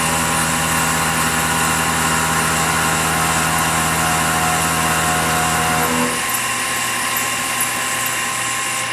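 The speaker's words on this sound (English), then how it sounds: "So we're just going to run just a skim pass" Machine tool taking a skim pass across the top of a Bultaco brake bracket, a loud, steady mechanical whine and hum with tonal drones that shift to a lower pitch partway through.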